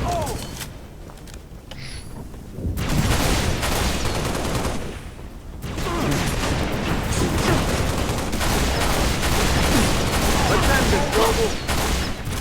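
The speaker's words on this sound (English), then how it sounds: "I'm under fire!" Sustained gunfire from the Halo: Reach video game fills the clip: dense overlapping bursts and rapid fire with booms, a brief lull near three seconds, then steady loud shooting through to the end.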